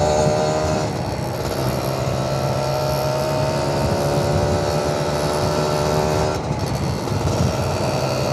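An RR150 motorcycle rides along the road with its engine droning steadily up close, a constant tonal buzz with brief dips in pitch as the throttle changes, wind noise underneath and no speech.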